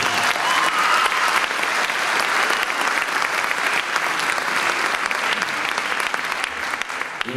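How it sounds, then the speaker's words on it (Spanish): Loud, sustained applause from a crowd at a film teaser presentation, dense clapping that holds steady throughout with little letup. "quiero un fuerte aplauso para él por la invitación"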